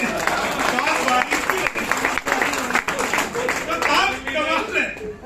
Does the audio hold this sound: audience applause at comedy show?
yes